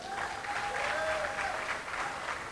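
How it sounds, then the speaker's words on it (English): Audience applause fills a ceremony hall, steady and dense throughout, continuous clapping at an even level with a faint tonal whistle or feedback line running underneath. "So give him a round of applause."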